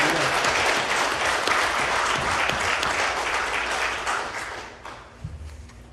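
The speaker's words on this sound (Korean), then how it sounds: "우리 하나님께 박수로 영광 한번 돌릴까요?" A church congregation at a Sunday service breaks into loud, sustained applause, a dense wash of many hands clapping that fades away toward the end.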